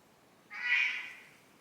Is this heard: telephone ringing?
no